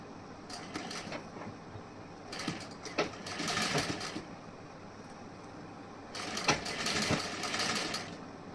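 A sewing machine stitches a princess-cut blouse in bursts, running fast for a second or two, pausing, then whirring again, close and clear with no talking.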